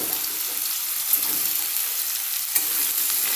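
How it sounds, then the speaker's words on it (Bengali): Bottle gourd and potato pieces drop into a hot, reddened tempering in a pan, giving a steady broadband sizzle with a couple of brief clatters and stirring scrapes, close and fairly loud, with no voices. "আমি এবার লাউ আলু সব দিয়ে দেবো। লাউগুলো সব দিয়ে দেবো একে একে।"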